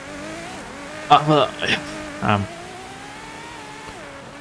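Ferrari engine in Forza Horizon 5 during a hillclimb race, a steady droning hum with shifting pitch that runs under short bursts of speech.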